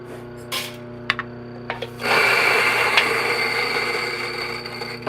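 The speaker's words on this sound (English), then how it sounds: "look at the speed of this grinder" A coffee grinder's motor is started on a hot start. A few light clicks and taps come first, then a loud, steady, high-pitched whirring whine that runs continuously to the end.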